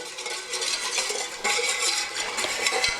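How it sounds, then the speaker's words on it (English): Curry mixture stirred in a pot over a low flame, a steady scraping and stirring with clinks of a utensil against the metal, continuous and fairly close, no voices. "turn the flame on low and just add this all in and keep stirring it till the time it comes to a boil"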